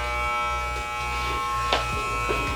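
An electric shaver buzzes steadily and close up while cutting someone's hair at home, the motor's hum continuous with a couple of brief changes in pitch as it moves across the head.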